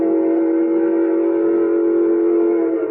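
A steam locomotive whistle in an old radio drama blows one long, loud, steady chord that holds for the full three seconds without a break.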